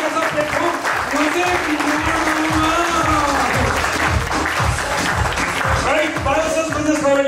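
An audience claps loudly and continuously for a company, Biosash Business Private Limited, at a business presentation, the applause dense and steady throughout.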